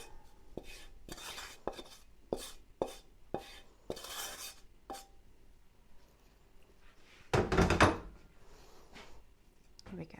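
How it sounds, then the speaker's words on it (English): Cooked food scraped from a dish onto raw mince for Dukan-style bobotie, a series of short scraping and clinking strokes early on, then one louder burst of scraping near the end, with kitchen handling noise and some talk around it. "So I'm going to scrape them on top of the mince here."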